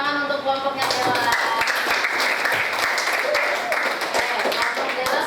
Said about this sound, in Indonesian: Tepuk tangan untuk kelompoknya Dela